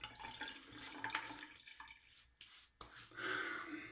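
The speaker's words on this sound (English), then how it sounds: "we'll go ahead and wet the face" Water splashes softly as hands cup it from a sink to wet a face before a shave, with quiet intermittent slaps and drips.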